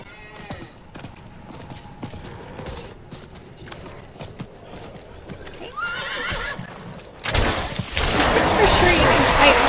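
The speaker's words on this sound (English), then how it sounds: "Nice to be riding the horse." In the video game Diablo IV, a ridden horse whinnies over clopping hooves, and the sound swells into a loud, dense burst of game noise near the end.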